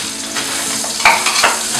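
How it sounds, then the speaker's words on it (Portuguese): Bacon sizzling and frying in a pan for a Brazilian macarronese meal, a loud steady crackle close to the microphone, with a couple of sharper spits partway through. "E o Thiago tá fritando o bacon aqui e ele já vai fritar a calabresa"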